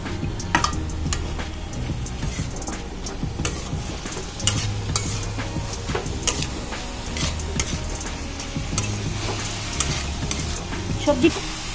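Bell peppers of three kinds sizzle and spit in a hot pan alongside vegetables, with steady frying hiss, scraping stirs and occasional clicks running throughout, fairly close.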